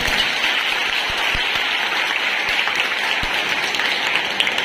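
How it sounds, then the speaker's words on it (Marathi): An audience at a Lions Club event applauds loudly and steadily, a dense, continuous wash of clapping that holds for several seconds with no voices over it. "मॅडमसाठी जोरात टाळ्या होऊन"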